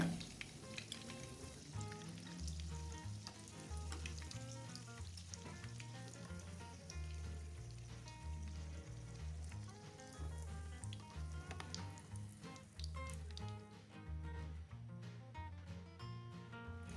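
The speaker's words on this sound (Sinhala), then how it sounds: "දැන් ඊටු ටිකත් කලින් ටික වගේම මම මේ විදිහට තෙල් එකට දාලා බැද ගන්නවා" Potato and flour snacks fry in hot oil with a steady, gentle sizzle and crackle, quiet and continuous beneath background music.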